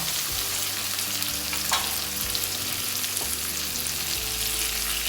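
Galoda frying in hot oil with cumin seeds and turmeric powder, a loud, dense, continuous sizzle up close with faint stirring scrapes and no talk.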